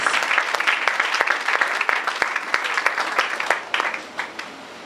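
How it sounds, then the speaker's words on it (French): A church congregation clapping loudly for the Lord, a dense, close burst of many hands with sharp claps and a few voices mixed in, fading slightly toward the end. "Acclamons très fort pour le Seigneur"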